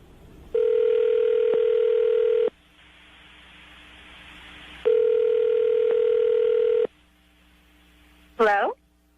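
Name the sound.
telephone dial tone and number being dialed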